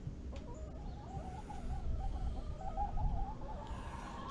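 A hen clucks in a chicken run on a wet day, giving a run of soft, wavering calls over a low background rumble. The calls are close and moderately loud and rise in pitch toward the end.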